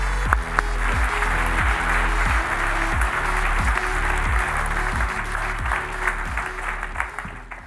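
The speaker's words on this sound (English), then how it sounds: "give them your ear and your biggest round of applause" Sustained audience applause fills a keynote hall at an AI engineering conference, dense and steady clapping with a strong rhythmic music beat underneath, holding loud throughout before thinning slightly near the end.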